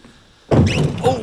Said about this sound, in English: hear him bite the boat just right there